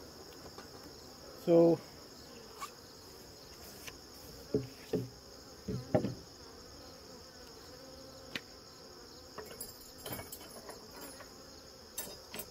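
Honeybees hum steadily around an open backyard hive busy with propolis, a soft continuous buzz under a few brief voice bursts and small handling clicks.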